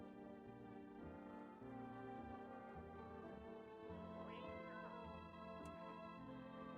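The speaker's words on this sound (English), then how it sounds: "Is the cat still in here somewhere?" Cat meowing inside the horror game No, I'm Not Human, a couple of quiet meows rising over a constant droning game soundtrack.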